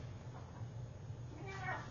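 Domestic cats meow indoors on a rainy day, a short burst of tonal cries near the end rising over a steady low background hum, fairly faint.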